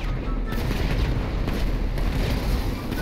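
Dense gunfire and explosive bursts fill a tank-versus-tank battle in GTA V Online. The shots pound continuously and loudly, close to the listener, and fill the whole stretch.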